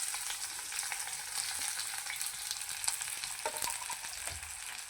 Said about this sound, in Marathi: आता हा उभा उभा असा शिजलेला कांदा आहे ना हा टाकून घ्यायचा ह्याला असं चांगलं तळून घेणार आहोत आपण